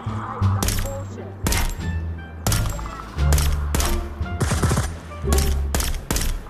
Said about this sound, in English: I'm gonna shoot targets now